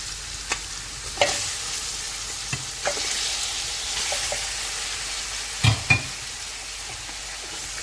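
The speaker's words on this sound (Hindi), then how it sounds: "जैसे अदरक और लहसुन गर्म हो गए तो इसमें बीफ डाल देंगे।" Beef frying in a pan with hot ginger and garlic paste, a soft continuous sizzle broken by a series of scraping stirs and clacks from the spoon, close and fairly quiet with no talk.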